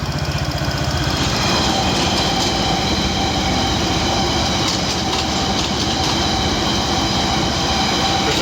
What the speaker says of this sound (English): There's a train passing the central line.